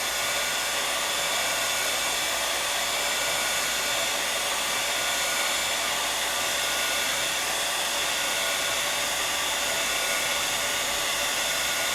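A heat tool blows hot air over Gasen paper painted with van Gogh watercolor, making a loud, steady, unbroken whoosh close by with no talk.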